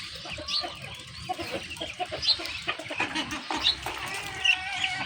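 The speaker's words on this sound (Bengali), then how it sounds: "এইখানে একটা মুরগির বাচ্চাও আছে" Hens clucking on a small farm in the morning while freed ducks wait for feed nearby, with several birds making overlapping chattering clucks and a few higher calls, close and steady, no talking.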